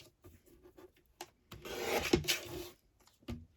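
Craft paper material being trimmed, heard as a few faint, close rasping rubs and light snips, with one longer scraping pass in the middle and quiet gaps around it.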